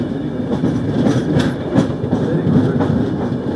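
The Avadh Assam Express passes close by on an Assam rail route in the monsoon, a steady loud rumble of wagons with rhythmic clickety-clack from the wheels over rail joints.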